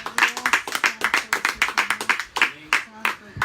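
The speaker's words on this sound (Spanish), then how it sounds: "Dele palmas al Rey de Reyes, Señor de Señores" Church congregation clapping hands in a steady rhythmic beat, sharp repeated claps under a worship leader's voice calling out in Spanish.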